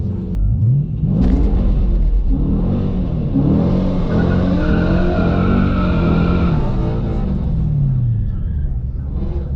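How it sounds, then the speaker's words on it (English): A Dodge Challenger does a light burnout at a racetrack, its engine revving and rumbling loud and close while tires squeal and whir in rising and falling sweeps for several seconds. "Light burnout."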